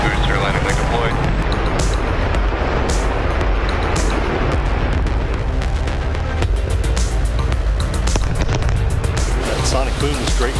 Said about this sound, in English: Sonic boom is great for us. That thunderclap broke the sound barrier.